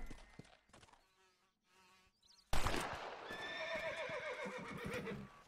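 A horse in Red Dead Redemption lets out a loud, sudden whinny partway through, following quieter sparse sounds, then a sustained noisy neigh that trails off, with no talk over it.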